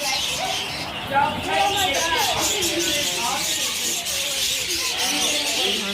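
Loud parrots squawk and chatter in an outdoor aviary, a dense overlapping din of harsh calls with a few voices mixed in, steady and close throughout.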